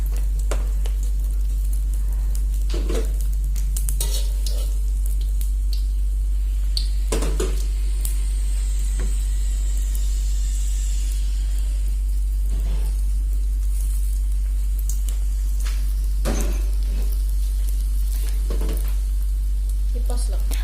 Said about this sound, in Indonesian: Kita masukin minyak dikit, baru kita goreng lagi.